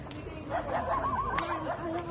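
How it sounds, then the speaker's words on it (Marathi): Village dogs bark and yip in a short burst at middle distance, with a whiny, wavering quality over faint outdoor background noise. "आमच्या गावातली कुत्री भोकू लागल्यात"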